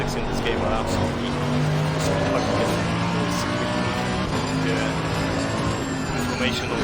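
Race car driving in Assetto Corsa Competizione on Xbox One X, a sustained engine drone with faint tire and road noise, loud and continuous with no pauses.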